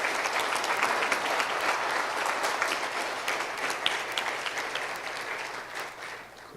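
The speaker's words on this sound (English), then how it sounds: "Can we just like give a round of applause for young people that are making things happen?" A crowd at a climate activist gathering breaks into sustained applause, loud and dense throughout before easing slightly near the end.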